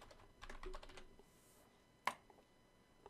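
Keys clatter on a computer keyboard while working in an Excel spreadsheet, a quick run of close clicks, a pause, then a single sharper keystroke and a few light taps.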